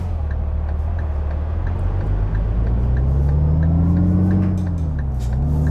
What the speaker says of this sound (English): And this truck sounds absolutely fantastic,